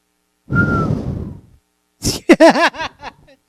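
A short, breathy whistle with a thin steady tone, followed by a brief burst of vocal sounds, like a voice or laugh.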